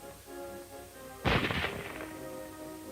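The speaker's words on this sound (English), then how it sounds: "The short bullet is fired by the M99." A Japanese Type 99 short rifle fires one sharp, loud shot. The report has a brief rumbling tail and sits over a constant, old-film-style hum.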